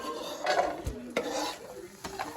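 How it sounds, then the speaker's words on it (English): Onions browning lightly in a pan beside cooking pasta, with soft sizzling broken by a few stirring scrapes and clinks of a utensil against the pan, fairly close and moderate in level. "Same time we're gonna get the old onions going on here. Get them lightly browned."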